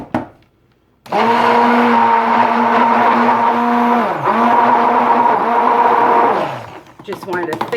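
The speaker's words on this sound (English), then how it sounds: "This one needs the blender a little bit." A stick blender mixing goat milk soap batter for a pumpkin pie cold-process soap, giving a loud, close, high-pitched motor whir that runs for several seconds, dips briefly, then resumes before cutting off.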